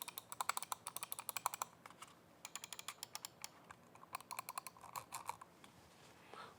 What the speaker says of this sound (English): The clicks sound good and feel good.